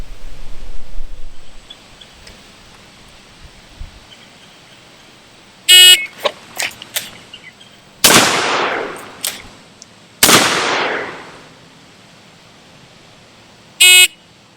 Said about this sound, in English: So hopefully I can get 2 shots off in 8 seconds from 50 feet, and they'll be good shots.